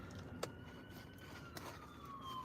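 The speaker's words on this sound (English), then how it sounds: "Ambulance." An ambulance siren passes in the distance, a faint rising and falling wail over a low background hum, with a couple of soft knocks nearby.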